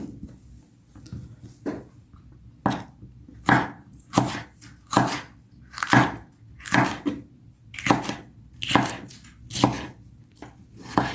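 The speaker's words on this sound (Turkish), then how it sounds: "Bakın, yeşil biberlerimizi de bu şekilde doğruyorum." A knife chops green peppers against a board in a steady series of crisp, close knocks, each cut distinct, with no talking.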